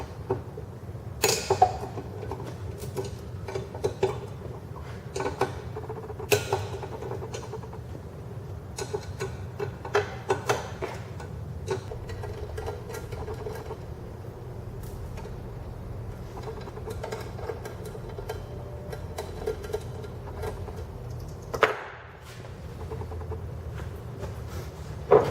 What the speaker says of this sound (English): Take take our torque stand socket and just start removing these bolts.